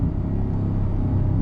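Inside a 2023 Ford F-150 Raptor R, a deep, steady engine rumble fills the cabin under acceleration, heavy and low without any pauses, and no voices are heard.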